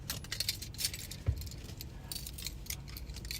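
Two car keys jangling in a pocket or hand during a fumbling attempt to start a car, a light metallic rattle running through the clip with one brief louder clink near the middle.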